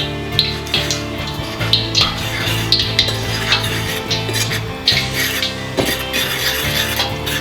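Salt and pepper calamari being tossed and mixed in a metal pan, with continuous scraping and clattering of a utensil against the pan in a busy, rhythmic stream, loud and close.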